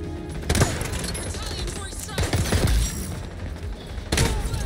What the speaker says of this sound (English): I'm getting sniped now. He pulled out the sniper.